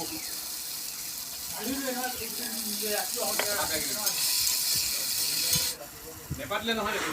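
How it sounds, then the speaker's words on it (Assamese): Chickpeas and potatoes fry in a kadai (wok), giving a continuous hiss of sizzling oil with scraping stirs, while someone speaks over the cooking. "একেখন কেৰাহীতে মই বুট আলু ভাজিলোঁ"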